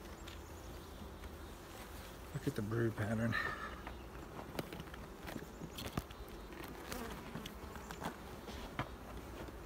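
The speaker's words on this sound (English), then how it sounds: "look at all the bees up here" Honey bees hum steadily around a hive at close range during a brood check, with scattered bumps and rustling and a person speaking briefly over the buzzing.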